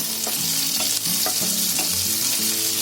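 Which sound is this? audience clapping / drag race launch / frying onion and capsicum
frying onion and capsicum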